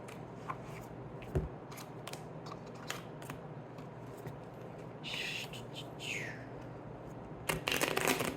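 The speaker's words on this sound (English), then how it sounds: "I'm going to pull a couple from Karma Cards by Monty Farber" An oracle deck of Karma Cards by Monty Farber being shuffled, with soft riffling and scattered card clicks at low level close by, ending in a brief louder flurry.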